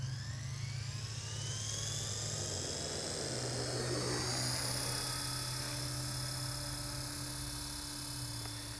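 A helicopter lifts off and hovers, its turbine whine and rotor drone steady, loud and close, with a rising and falling high-pitched tone over it and no talking.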